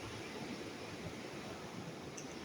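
Sea waves washing ashore on a Philippine beach where boats land, a continuous broadband roar of surf with some wind, steady and unbroken.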